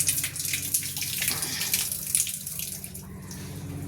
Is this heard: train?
no